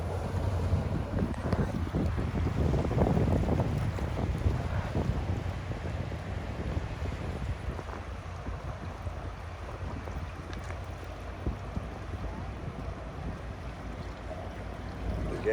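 Bulk carrier CSL Niagara churns and displaces water as it enters Hamilton harbour, a steady low rushing wash mixed with wind buffeting the microphone, continuous throughout with no talk.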